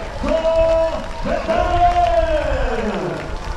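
Crowd cheering and applauding at a triathlon finish in La Rochelle, loud and continuous, with whoops and a sustained shouted voice riding over the clapping.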